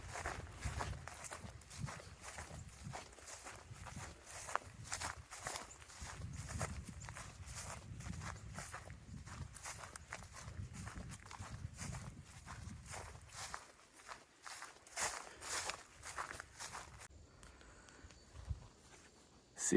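Steady footsteps crunch along a dirt forest trail on the Florida Trail at an even walking pace, soft and close, with quiet outdoor ambience and no talking.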